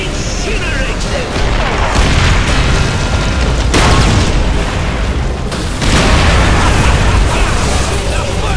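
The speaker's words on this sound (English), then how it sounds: "Fire the flamethrower!" A flamethrower fires in the Call of Duty: World at War campaign, a loud, dense roaring blast that surges in several long waves, mixed with battle booms and shouted voices.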